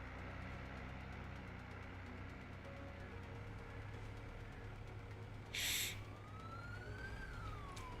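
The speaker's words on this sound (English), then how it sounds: "The cop sirens turned on right as I drove past him." Police car siren in the farming game Farming Simulator 22: a short burst followed by a faint, rising and falling wail over a steady low engine rumble, with no voices.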